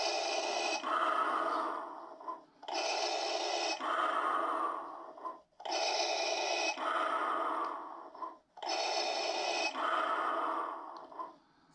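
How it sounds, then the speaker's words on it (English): A costume helmet's built-in voice effect plays a heavy, mechanical breathing loop, four long rasping inhale-exhale cycles in a steady rhythm, close and distinct. "there is a voice thing on here, well, like a heavy breathing thing."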